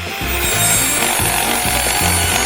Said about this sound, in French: C'est facile et rapide de le faire avec une scie.